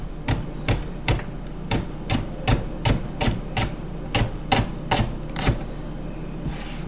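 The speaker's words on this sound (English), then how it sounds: "how you're going to cut up your leeks is just in slices like this." Knife chopping leeks into slices on a cutting board, a steady run of sharp, evenly spaced chops at close range with no talking.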